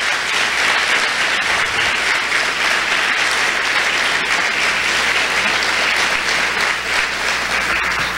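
A church congregation applauds in praise during an evening service, a dense, steady wash of many hands clapping that fills the whole stretch without pause, with no voices standing out.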